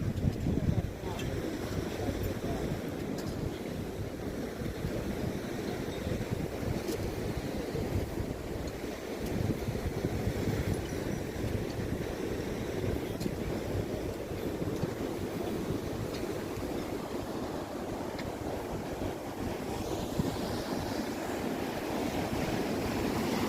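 Strong winter surf with loud churning water, a steady roar of waves and wind noise on the microphone throughout, with no clear talk.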